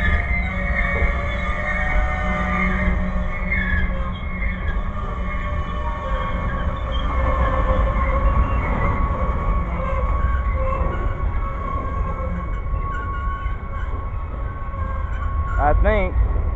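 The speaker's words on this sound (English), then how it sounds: "Holy smokes, auto train stopping!" An Auto Train passes and slows to a stop, giving a continuous rumble with sustained high tonal squeals or horn-like tones over it, steady and fairly loud throughout.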